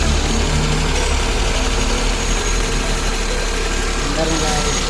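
A Hyundai Getz engine idles just after a timing belt change, giving a steady close rumbling hum throughout while people talk over it.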